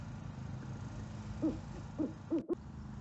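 An owl hoots several times in a short series against a low, steady background hum, fairly faint and distant.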